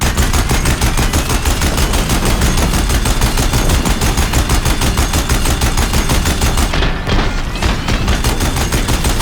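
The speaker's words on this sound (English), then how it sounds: "If the Deathbringers keep firing, this bridge will go." Sustained rapid machine-gun fire from Deathbringer machines pounding a bridge in the video game Horizon Zero Dawn, loud and continuous with dense overlapping shots throughout.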